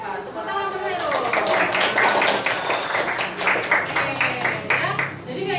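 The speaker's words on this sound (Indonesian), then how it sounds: "Tepuk tangan dulu." A classroom of children applauding, with fast, lively clapping building and pulsing for several seconds while young voices talk and call out over it.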